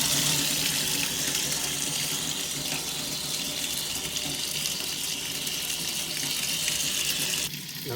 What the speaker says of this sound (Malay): Lakukan flushing dalam 5 minit ke 8 minit supaya dapat bersihkan kotor-kotoran yang berada di dalam filter tersebut